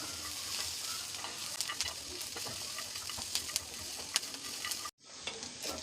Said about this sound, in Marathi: काजू पण थोडेसे असे आपण भाजून घेणार आहोत